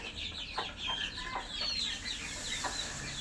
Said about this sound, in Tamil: நல்லா ரெண்டு மாதத்து குஞ்சுகள் இதெல்லாமே ரெண்டு மாதம் ஆயிடுச்சு